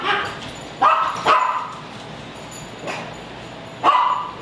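A dog barks a few sharp times, spaced irregularly, fairly close over a steady hiss of background noise.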